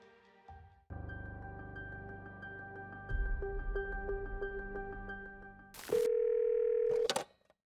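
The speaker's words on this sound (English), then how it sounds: "Anthony Cirigliano made a phone call to 911" Dial tone and a rapid run of touch-tone keypad beeps as someone phones 911 just after midnight, followed by a loud steady tone near the end, with no voices.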